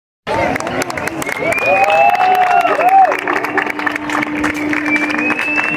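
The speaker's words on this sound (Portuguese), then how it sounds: "E a hora das palmas finais." A crowd on Jacaré beach in João Pessoa, Brazil applauds the sunset, with steady clapping running throughout. A saxophone-like melody plays over it, with a sustained tone in the mix.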